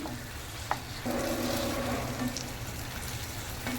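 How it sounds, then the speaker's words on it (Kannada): Onion and capsicum pieces fry on high flame in a pan, giving a loud continuous sizzle with a few stirring scrapes close by, no talking. "ಆನಂತರ ಸ್ಕ್ವೇರ್ ಕಟ್ಟಿಂಗ್ ಮಾಡಿದ ನೀರುಳ್ಳಿಯನ್ನು ಹಾಕಿ, ದೊಣ್ಣೆ ಮೆಣಸಿನ ಪೀಸಸನ್ನು ಹಾಕಿ ಮತ್ತು ಒಂದು 2-3 ಮಿನಿಟ್ ಇದನ್ನು ಫ್ರೈ ಮಾಡಬೇಕು."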